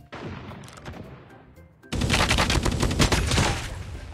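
Rapid gunfire from a game weapon with a slow firing rate, near and loud, in dense repeated bursts that start abruptly partway through after a quieter stretch of rumbling game sound.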